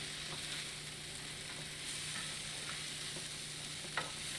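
Rice toasting in a hot pan while being stirred, a steady close sizzle with soft scraping stir strokes and an occasional louder tick, no talking.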